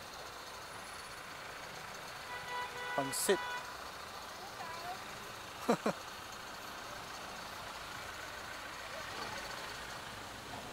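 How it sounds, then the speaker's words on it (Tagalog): Street traffic with trucks and buses in the Philippines, a low steady rumble of engines broken by two sharp hisses of air brakes, while people talk casually close by. "Traffic."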